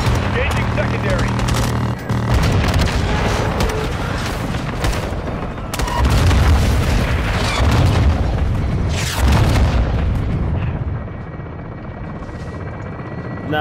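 Airstrike explosions in the Modern Warfare II campaign boom loudly through constant helicopter rotor roar and gunfire, with radio voices talking over the dense battle din.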